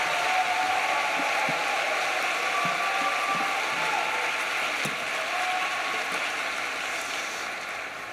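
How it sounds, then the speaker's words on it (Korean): An audience at a Christian soldiers' revival gathering gives a big round of applause to welcome a pastor, a steady, dense wash of clapping that holds even and slowly eases off. "우리 목사님을 말씀을 사모하는 마음으로 큰 박수로 환영하겠습니다"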